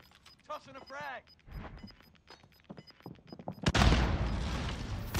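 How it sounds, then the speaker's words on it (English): A frag grenade goes off in Warzone Pacific: a voice talks over quieter game sounds, then a sudden loud blast breaks in and a heavy roaring rumble carries on to the end. "Tossing a frag."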